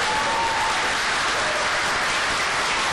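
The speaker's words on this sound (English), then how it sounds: "We don't allow clapping because we don't allow booing." An audience claps at a city planning committee meeting, dense sustained applause from many hands filling the room evenly for several seconds.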